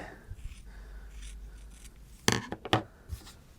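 Scissors trim down a piece of fabric on a crafting table, a soft rubbing snip followed by a few crisp close cuts in quick succession, with light table knocks in a quiet room.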